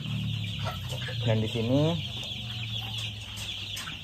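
Chickens in a backyard coop behind a house cluck and squawk nearby, with a brief rising call over a steady background hum, while a person speaks briefly.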